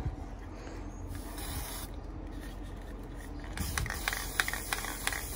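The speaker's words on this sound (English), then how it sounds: "So I got some black here. And I'm just going to spray around the edges." Black spray paint hissing from a can as it is sprayed around the edges of a DIY rolling tray, a steady close hiss that grows into brighter spurts near the end.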